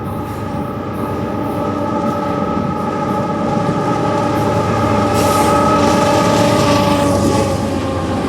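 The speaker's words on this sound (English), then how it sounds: "So far, this is the fastest I've seen a train move all day." A long freight train hauling empty trash containers rolls past close by at speed, a loud continuous rumble of wheels and cars with steady ringing tones and some squeal, no voices.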